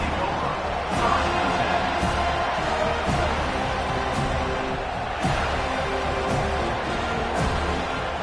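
A stadium crowd in an NCAA 25 college football video game roars in a dense, steady wall of cheering, heard under continuous commentary.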